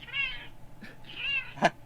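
A pet cat meowing close by: two drawn-out plaintive meows followed by a short sharp cry, with no talk over them.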